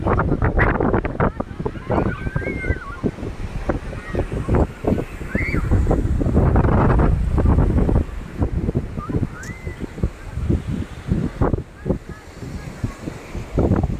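Strong wind buffets a beach, roaring and rumbling steadily across the microphone in heavy gusts, with surf mixed underneath and people talking at times.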